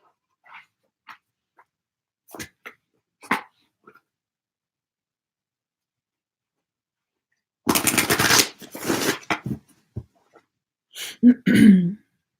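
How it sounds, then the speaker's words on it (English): Tarot cards are shuffled and pulled: scattered soft taps and flicks at first, then a loud, dense riffling burst lasting about two seconds, followed by a shorter burst. No one speaks. "I'm going to pull a couple more cards for you guys."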